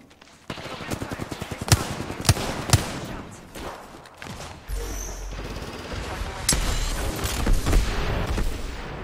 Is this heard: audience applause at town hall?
no